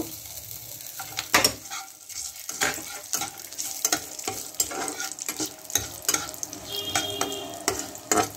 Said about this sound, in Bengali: এবার এখানে কাজু আর কিশমিশ সাথে ভেজে নেব।